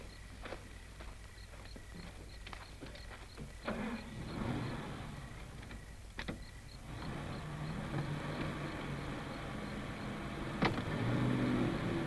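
An old car is driven along a road, its engine giving a steady low rumble with background noise and a few sharp knocks and clicks, the engine swelling slightly toward the end.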